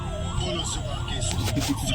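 An ambulance siren wails in a steady rising and falling sweep on a road near Delhi, fairly loud and close amid traffic noise, with a couple of short horn-like tones near the end.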